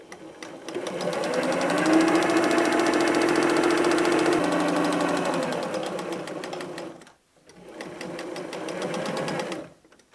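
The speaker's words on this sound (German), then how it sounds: "Wir nähen genau über die eingezeichnete Linie." A sewing machine stitching patchwork fabric along a marked line for a table mat, a steady close whirring run that pauses briefly and resumes for a shorter stretch.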